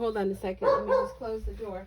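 A pet dog barks in short bursts indoors, heard under and between a woman's speech.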